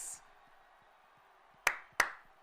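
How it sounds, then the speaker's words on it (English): Two sharp hand claps ring out close by, a short beat apart, after a faint stretch of quiet room sound, a small round of applause for a guest rather than a full crowd. "Round of applause for True Geordie"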